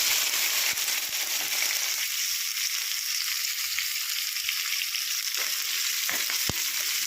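Onions fry in plenty of oil with a loud, unbroken hiss and a few brief clicks of a utensil against the pan.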